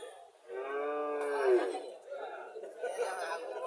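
A native Bangladeshi dairy cow moos once at a cattle market, a long low drawn-out call, followed by quieter background chatter of people nearby.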